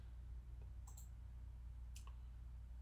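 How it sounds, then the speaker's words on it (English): Two computer mouse clicks roughly a second apart, small and crisp over a quiet steady hum. "right click on the folder seed"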